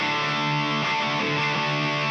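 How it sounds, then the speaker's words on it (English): A heavily distorted electric guitar holds a sustained, buzzing chord with a few subtle shifts, steady and loud throughout. "Because if I have a lot of distortion"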